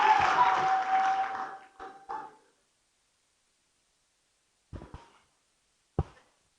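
Audience applause at a live gospel concert, a loud burst of clapping and crowd noise that fades out within about two seconds, followed by a couple of isolated claps or thumps after a pause.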